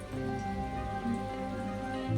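Soft, steady rain falls outdoors at a garden stop during a group motorcycle ride, a faint continuous patter with no talking.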